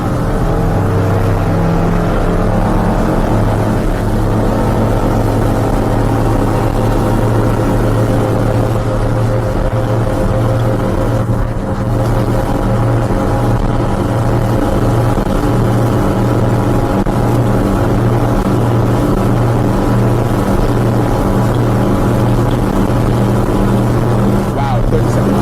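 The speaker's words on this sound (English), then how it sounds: "Let's see though how fast we can go at full throttle." Bénéteau Antares 9 OB motorboat with outboard engine at full throttle, a loud sustained engine drone with steady low harmonics and rushing water throughout, no change in pace over the run.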